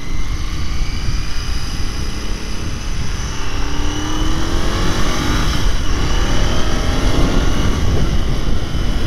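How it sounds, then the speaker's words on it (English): A 2023 Royal Enfield Continental GT650 motorcycle accelerates through the gears with a loud, continuous engine drone that rises and shifts pitch. Heavy wind rush runs throughout, heard from on board the bike. "going through the gears, it really is smooth takeoff through the gears"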